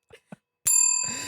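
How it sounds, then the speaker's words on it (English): A small bell is struck once with a bright, ringing ding that sustains and fades slowly, after two brief soft knocks. "Just ring the bell."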